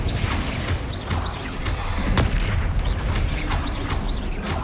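Confringo and Expelliarmus spells cast in the Hogwarts Legacy video game: repeated whooshing casts, booming impacts and mechanical crackles in quick, busy succession, fairly loud and close.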